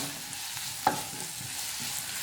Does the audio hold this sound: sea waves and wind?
no